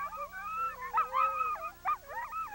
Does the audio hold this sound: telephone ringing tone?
no